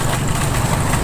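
A vehicle engine on Shukul Bazar Road near Raniganj, a steady, fairly loud rumble holding throughout without any voices.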